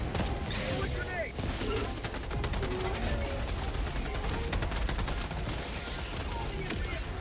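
Gatling gun firing in Helldivers, a dense rapid stream of shots with explosions and battle noise continuing throughout, under occasional voices.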